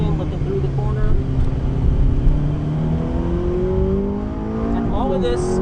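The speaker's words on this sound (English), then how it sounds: "Hard on the brakes, downshifting, looking through the corner." Car on a track braking hard and downshifting through a corner, engine note dropping in steps with quick revs, heard close beneath continuous talking.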